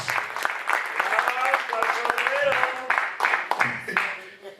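Church congregation clapping and cheering in a worship service, a dense burst of applause with voices calling out over it, steady and fairly loud throughout.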